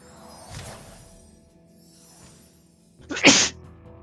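A single sharp sneeze bursts out loudly near the end, after a few seconds of quiet room tone and faint background sounds during a German-language Spyro Reignited Trilogy play session.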